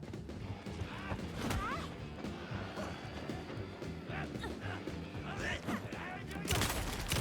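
Gunfire in the video game Alan Wake 2 rings out as scattered bursts of shots and impacts over busy game noise, with a voice talking intermittently beneath.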